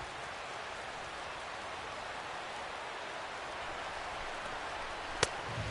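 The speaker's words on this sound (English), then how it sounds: "The rain, as we've mentioned, coming down fairly steadily here at game time" Steady rain falling at a Texas Rangers versus Boston Red Sox baseball game, an even, continuous hiss throughout, with one brief sharp tick near the end.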